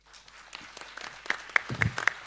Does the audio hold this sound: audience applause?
yes